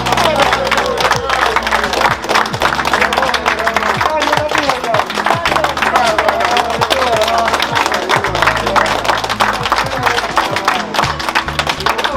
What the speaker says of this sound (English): So give all the donors them a round of applause.